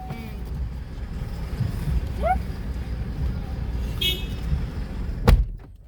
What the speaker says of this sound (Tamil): லாரி பின்னாடி வந்து நின்றுச்சு ஆரம் அடிக்கிறான்